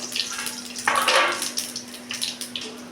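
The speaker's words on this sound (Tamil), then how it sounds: "கடுகு நல்லா பொரியுது" Mustard seeds and cumin spluttering in hot oil while making a Tamil-style oil-fried brinjal dish, giving a steady crackling sizzle with a louder burst of popping partway through.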